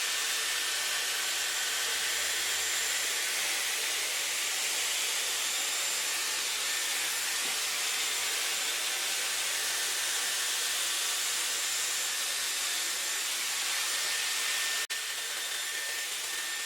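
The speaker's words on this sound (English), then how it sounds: "I'm going to start with the pink brush attachment, which is more of the blow dry attachment." Dyson Airwrap running with the pink blow dry brush attachment, a steady loud airy hiss and whir that holds for the whole stretch and drops slightly near the end, with no talk.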